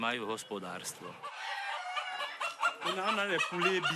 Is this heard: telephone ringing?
no